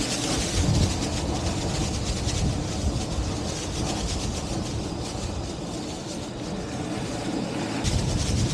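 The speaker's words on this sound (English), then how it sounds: "Oh, it's really strong, this wind." Strong wind gusting beside a lake, a loud, steady broadband rush with buffeting low rumble throughout, no speech.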